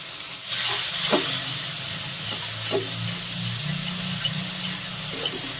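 Spice masala with a little water being sautéed in a pan, a loud continuous sizzle and hiss with periodic scrapes of a spatula stirring it.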